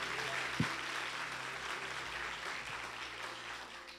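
A church congregation claps together in sustained, steady applause that sounds moderately distant and fills the room evenly for a few seconds.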